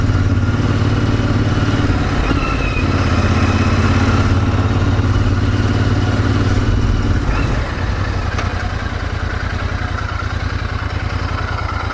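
A Royal Enfield Interceptor 650 parallel-twin motorcycle runs steadily. The engine drones loud and close with a constant mechanical buzz and whir, and no one speaks over it.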